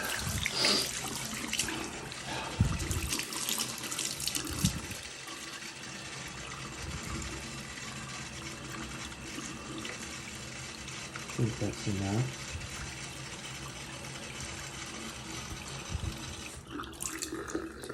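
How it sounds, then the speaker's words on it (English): A newly installed Pfister widespread bathroom sink faucet runs with its aerator removed, a steady hiss of flowing water broken by a few clunks and handling knocks, with a brief spoken remark near the end. "Turn off the water"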